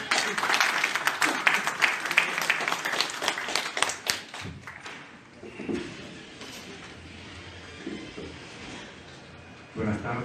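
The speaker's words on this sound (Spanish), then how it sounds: "Lo recibimos con un fuerte voto de aplauso." Audience applause greets a superior court judge arriving to speak at a lecture hall event, dense clapping filling the first four seconds and then thinning into scattered claps and murmuring voices, with a short renewed burst near the end.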